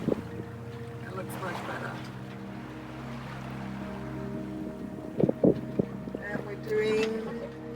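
Wind rushing over a sailboat flying its spinnaker on the open ocean, a steady low roar with faint rigging tones, while people talk briefly near the microphone and a few knocks sound toward the end.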